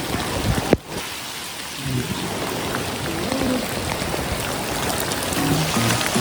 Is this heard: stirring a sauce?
no